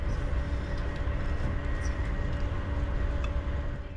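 Inside a German high-speed train, a steady low rumble of running rolling stock fills the cabin, with a constant hum and no talking.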